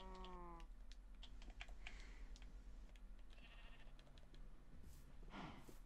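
Sheep bleating in the Minecraft video game, a short wavering bleat at the start, over a steady background of game music and scattered clicks.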